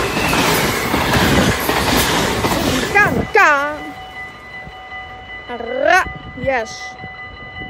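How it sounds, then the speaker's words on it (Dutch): A train arriving at Maastricht station in October 2022, a broad rumbling roar of wheels on rails that drops away into squealing brakes and steady tonal whines, with a few short exclamations from a bystander. "hier komt in ieder geval eindelijk weer een trein hier"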